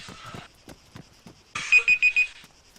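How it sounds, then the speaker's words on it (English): A timer alarm signalling a couple of seconds left during close-quarters combat training: a loud electronic alarm-clock beep, with a short burst followed by a rapid run of four bright pulses, close and clear. "that's my alarm saying they got a couple seconds left."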